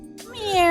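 A wet cat meows once, a short rising-then-falling cry that swells to its loudest at the end, close by and alone.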